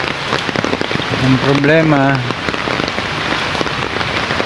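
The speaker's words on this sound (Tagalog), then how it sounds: "walang lubay ang ulan." Heavy, continuous rain pours outdoors on a flooded street, a dense, steady patter close by, while someone speaks briefly over it.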